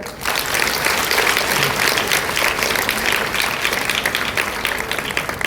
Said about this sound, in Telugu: ఒక్కసారి హుషారుగా చప్పట్లు కొట్టండి అందరూ